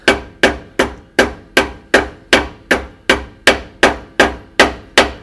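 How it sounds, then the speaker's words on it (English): Soft mallet repeatedly whacking the rear pinion of a 105 Series Landcruiser, about a dozen sharp, evenly spaced strikes, close and loud, with no talking. "While I'm under it, I might just give it a whack with the soft mallet"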